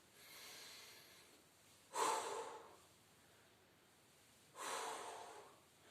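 Two sharp exhaled breaths during squats in a gentle gym workout, each a brief forceful puff of air a few seconds apart over faint background breathing.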